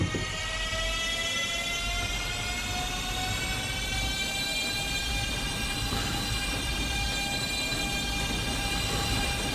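A Minecraft train on a New York subway build gives a loud, steady rumble with sustained whining tones held over it, running evenly throughout with no voices.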